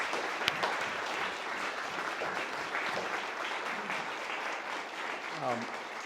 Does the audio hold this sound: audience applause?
yes